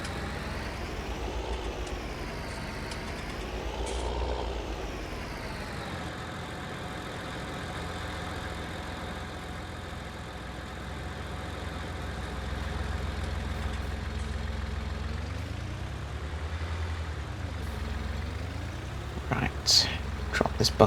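Tractor engine in the Farming Simulator 19 video game, a steady mid-pitched drone whose pitch rises and falls as it is driven, with a few clanks near the end.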